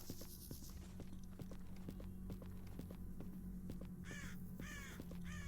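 Footsteps in the video game Stalker: Call of Pripyat: steady crunching steps in a regular walking rhythm under a low hum, while crows caw repeatedly in the background.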